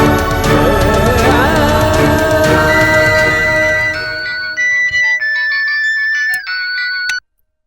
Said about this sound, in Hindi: हाँ एक मिनट, गीसू का फोन है